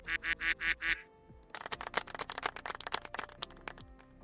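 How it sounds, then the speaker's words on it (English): A duck gives a quick run of five loud, close quacks, then after a short pause a busier stretch of rapid, overlapping quacking and honking. "Let's see if the quacks come through again."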